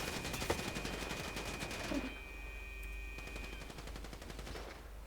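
Police gunfire in Grand Theft Auto V: rapid bursts of shots crackle in quick succession, loud and close at first, then thin out into scattered sharper shots over a steady game background.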